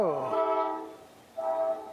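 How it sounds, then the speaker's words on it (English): A passenger train sounds its horn in two tonal blasts, the first longer and fading, the second shorter after a brief gap, heard from a moderate distance outdoors. "we have a beautiful passenger train right over there with sun decks on them"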